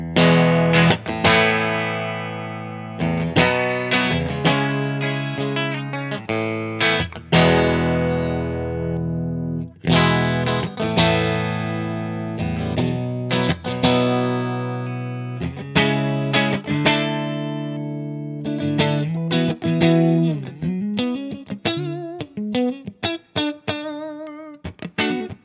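Whitfill electric guitar, a light, resonant instrument, played on its bridge pickup through a distortion pedal, with thick driven chords and riffs ringing loudly and steadily for a long stretch with no talk.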